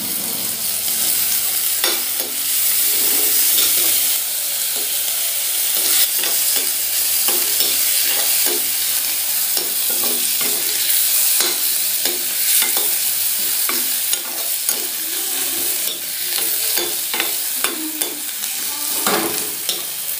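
Garlic and turmeric powder fry in a pan with a steady, close sizzle, broken by repeated scrapes and clicks of a spoon stirring through the mixture at an irregular pace.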